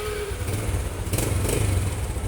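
A Honda Supra X 125 motorcycle engine runs close by, idling with a steady low putter and a brief rev rising in the middle of the clip.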